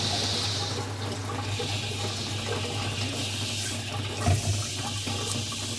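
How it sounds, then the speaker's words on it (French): Steady running water from a water curtain in a ceramic glazing booth, a continuous even splash and hiss throughout with no talking, plus a brief louder surge near the end. "Un robinet permet de régler le flux du rideau d'eau et aussi de donner une puissance maximum à la douchette incorporée"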